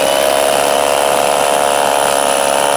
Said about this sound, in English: let's test the Erbauer first with the 10mm SDS bit and see how it fares against these very hard paving stones